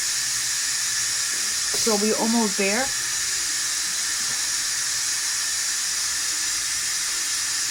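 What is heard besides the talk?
steam being released from a cooking pot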